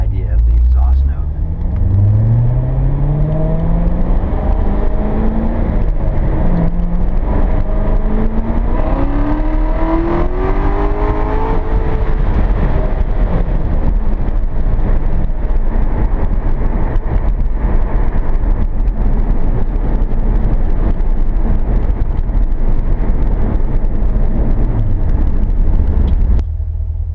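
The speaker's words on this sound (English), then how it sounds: "I'll just do a couple of pulls so you can kind of get an idea of the exhaust note" A C7 Corvette fitted with an Edelbrock eForce, in Sport mode with Sport exhaust, makes loud pulls as a deep, angry exhaust note sweeps up through the revs and settles into a heavy, continuous rumble from inside the car.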